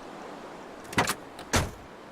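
A wrecked car's door opens as a player enters it in The Long Dark, two sharp metallic clunks half a second apart over a quiet background hiss.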